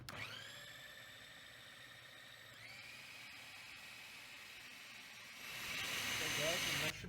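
A blender whirs at high speed through a cheesecake filling, a loud, steady motor whine that shifts pitch partway through and grows rougher and louder toward the end, with no talk over it.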